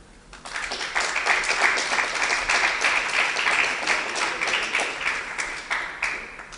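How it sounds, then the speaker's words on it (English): Audience applause at an investment lab awards event in Paris, a steady wash of many hands clapping that rises quickly and holds at moderate loudness for several seconds before easing slightly. "we have a first round of applause for the coup de cœur in Paris, which is Symbioken"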